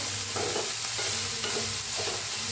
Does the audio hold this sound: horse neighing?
no